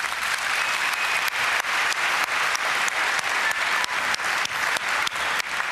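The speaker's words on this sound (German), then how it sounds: "Bitte noch einen Applaus für unsere Finalkandidaten." Audience at a Hacker Jeopardy quiz show applauding the finalists, a sustained, even burst of many hands clapping that fills the room, with no voices on top.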